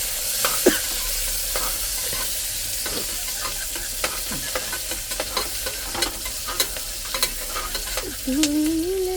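Spices and ingredients tossed together into hot oil in a pan, with loud continuous sizzling and repeated sharp scrapes and clinks of stirring, ending in a brief rising squeak.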